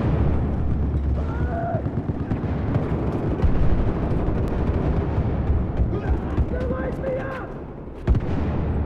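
Grenade explosions and gunfire in Battlefield 4 during close fighting in a building, a dense, continuous rumble of booms and blasts with players talking over the din.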